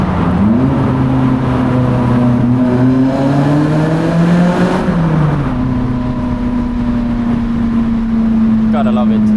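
A car accelerating hard through a Swiss Alps tunnel gives a loud engine note that climbs steadily in pitch, drops briefly at a gear change, then holds a strong drone, with voices talking over it.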